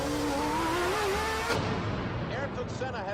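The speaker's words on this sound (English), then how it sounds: "Ayrton Senna has hit the wall." Ayrton Senna's Formula 1 car at Monaco skids and strikes the wall at Portier, a loud sustained engine whine and tyre scream cut by a sharp impact midway, followed by scraping, fading noise.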